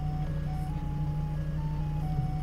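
A forklift carrying a heavy, off-balance loaded container over rough ground near old rail track, giving a steady close engine drone with a constant low hum and faint high tonal whine throughout.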